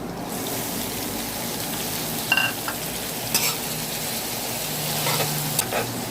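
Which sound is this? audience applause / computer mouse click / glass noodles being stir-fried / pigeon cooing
glass noodles being stir-fried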